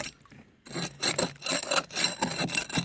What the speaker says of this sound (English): There's probably a much better way of doing this, but paint scraper works for just now.